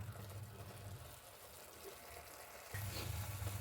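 Vegetables for a spiced split chickpea lemon-rice style dish sautéing in a pan, a faint, low sizzle that dips in the middle then swells again, heard alone.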